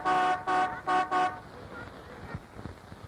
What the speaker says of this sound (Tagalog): ang busina ng kotse ni Dora